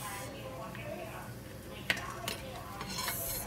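Cooked tapioca is scooped with a spoon for fruit nava, soft quiet scraping with a couple of sharp clinks against the container midway, over low room noise.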